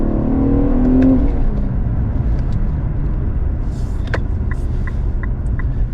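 An Infiniti Q50S Hybrid launches from a stop with traction trouble, its engine and road noise a loud, steady rumble with a rising whir over about six seconds, and faint ticks late on.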